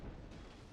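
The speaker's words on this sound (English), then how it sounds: "You can hear the constant artillery explosions." Artillery explosions from an American Civil War battle game rumble low and muffled, a brief dull boom rolling into continuous distant thunder, quiet overall.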